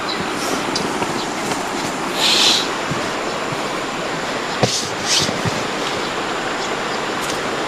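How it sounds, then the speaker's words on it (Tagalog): A steady rushing wash of a flowing river fills the riverside scene, continuous and even, with a couple of faint brief clicks and a soft hiss. "sarap ng lagaslas ng ilog talaga"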